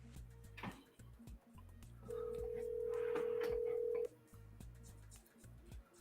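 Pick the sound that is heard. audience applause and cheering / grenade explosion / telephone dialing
telephone dialing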